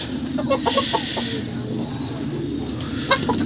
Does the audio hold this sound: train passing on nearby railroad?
no